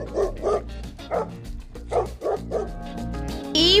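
A dog barks and yips about seven times in an uneven rhythm, close and fairly loud, with a whimpering quality between barks.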